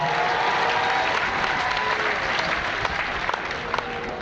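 Continuous applause from a crowd, dense and steady throughout, with a few sharper individual claps standing out near the end.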